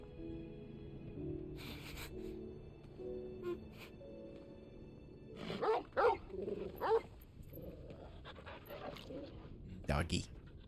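A dog in the Final Fantasy 16 video game barks in a few sharp bursts mid-scene, with panting and whimpering around them, under game music and talk.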